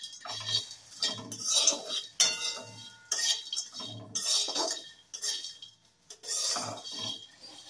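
Spices for a fish-bait masala meant for rui and katla being dry-fried and stirred in a pan, with a spatula scraping and clinking in rhythmic strokes roughly once a second, fairly quiet and close, with no voices.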